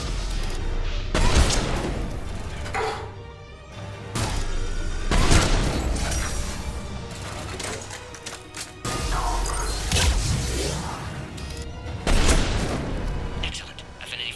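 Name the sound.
random explosions in the video game Mass Effect 3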